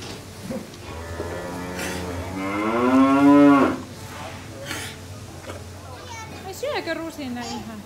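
A pregnant heifer in a Finnish dairy barn with loose housing lets out a long, loud moo that swells and then cuts off, with a few shorter lowing sounds after it. Talk runs underneath.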